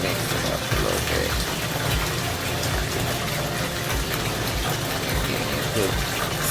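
Hot water gushes and swirls in a tub as it is mixed with homemade detergent, Himalayan salt and Epsom salt for stripping towels, a loud, steady, churning wash throughout.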